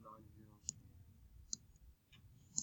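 Fingers pressing keys on a calculator keypad, giving a few sharp, sparse clicks close by over a soft low background.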